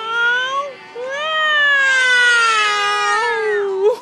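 A cat meows loudly and close by in a long, wavering, whiny yowl that rises and falls over about four seconds, with a brief break early on.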